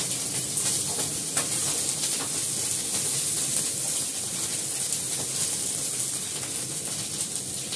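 Fish fry in hot oil with potato and ginger paste, a dense, steady sizzle and crackle that holds evenly throughout without pauses or voices.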